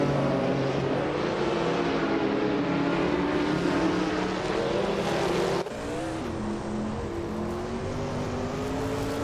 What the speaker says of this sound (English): Jambo is driving an Oldsmobile Cutlass from 1988